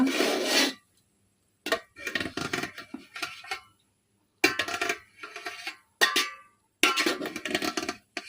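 A spoon scrapes and stirs food in a cooking pot in several short rasping bursts separated by brief pauses, close and fairly loud with no talking.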